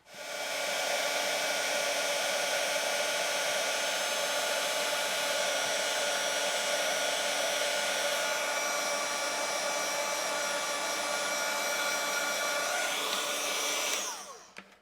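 A heat tool blows a steady, loud whooshing hum for about fourteen seconds while melting embossing powder on a handmade Halloween card, then cuts off abruptly.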